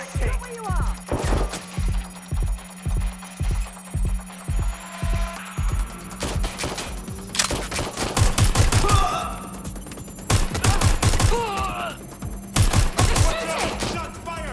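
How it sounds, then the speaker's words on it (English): Gunfire in the video game Watch Dogs Legion: a steady run of evenly spaced, thumping shots, then loud, ragged bursts of rapid fire. Voices talk throughout, and a low hum runs underneath. "Shots fired!"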